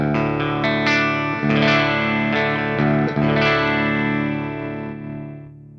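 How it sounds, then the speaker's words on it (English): A sustained clean electric guitar rings out in chords through a Deluxe Reverb amp model on an HX Stomp XL, struck a few times and left to decay with a warm, reverberant tone. "That's a pretty easy, like, clean sound from a deluxe reverb."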